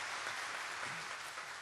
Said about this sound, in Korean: 네, 박수 한번 치겠습니다.